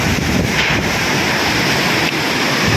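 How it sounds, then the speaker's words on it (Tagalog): Roaring wind and rain in a prolonged storm keep up a loud, unbroken rush, with gusts buffeting the microphone and no speech. "Hangin at ulan."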